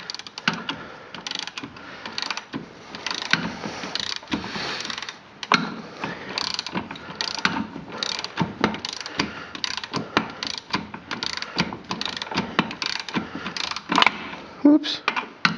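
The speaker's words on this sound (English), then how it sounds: "tighten it up. And then as soon as I get it tight," Ratchet clicking in repeated bursts while a bolt is tightened on the front axle of a John Deere 455 lawn tractor, close and fairly loud, with short pauses between strokes.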